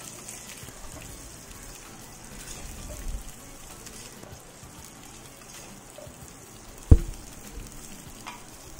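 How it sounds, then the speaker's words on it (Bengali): Sliced drumsticks (sojne data) frying lightly in a pan, a soft, even sizzle with faint stirring and one sharp clack of a utensil near the end, no speech. "সজনে ডাঁটাটাকে খুব ভালো করে কিন্তু হালকা হালকা করে ভেজে নিতে হবে।"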